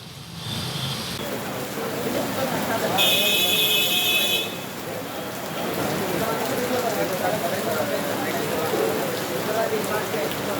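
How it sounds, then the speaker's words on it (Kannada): Heavy rain pours down in Chamarajpet, Bengaluru, a steady dense hiss of drops on surfaces that runs through the whole stretch, with a brief electronic beep partway and a voice talking over it. "ಯಾವ ರೀತಿ ಮಳೆ ಆರ್ಭಟ ಇದೆ"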